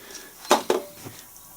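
Two quick metallic clinks in rapid succession as a detent spring and ball drop from a Land Rover Defender gearbox housing onto a hard surface, followed by a faint tick.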